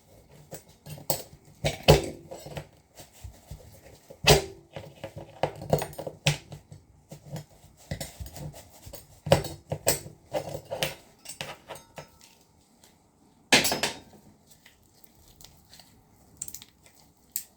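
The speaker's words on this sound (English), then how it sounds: "actually I broke it off using my hands instead of the knife" Crab shell segments snapped and pulled apart by hand while dressing a crab, giving sharp, close cracks and crunches in scattered bursts with quieter handling between.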